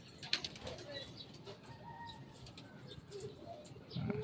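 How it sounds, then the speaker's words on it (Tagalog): Racing pigeons coo softly at a loft, faint low calls with a few wingbeats and light rustling, all fairly quiet and distant. "yun mga kalapatids"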